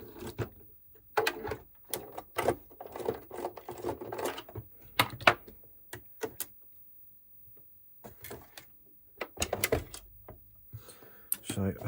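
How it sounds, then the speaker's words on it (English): Small screws being worked loose from the plastic case of a USA SNES console, close clicking and scraping taps in short irregular bursts, with pauses between them. "So that's the 6 main screws out."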